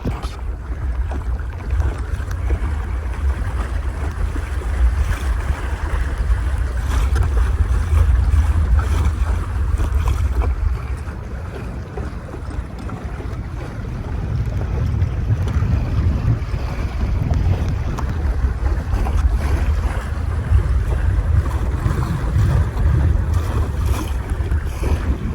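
Sailing dinghy heeling along on a reservoir, with steady broadband wind noise buffeting the microphone and water rushing and slapping against the hull throughout, loud and continuous with slight swells in intensity.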